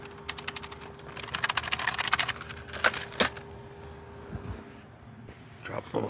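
Clicky typing on a computer keyboard beside a Dell Dimension 8400 desktop, a fast close run of crisp keystrokes with short pauses, and a few voice sounds underneath.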